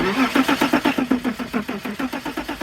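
An abandoned BMW's engine cranks over and over in a steady, rapid rhythm, the starter churning without catching, close up and fairly loud.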